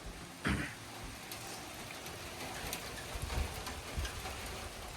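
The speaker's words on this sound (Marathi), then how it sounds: "हे काय आणखीन पाऊस चालूच आहे थोडा थोडा." Light rain falls at a summer family campsite in Tobermory, Canada, a soft steady patter with scattered drops tapping nearby surfaces and one louder knock early on.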